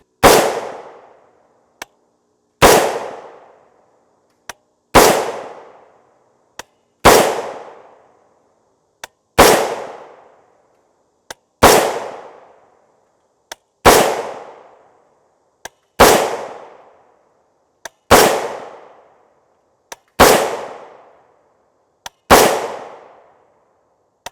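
Ten evenly spaced 6.5 Grendel rifle shots from a 16-inch PSA build rifle, each a loud, sharp crack with a decaying tail, about two seconds apart, no talking.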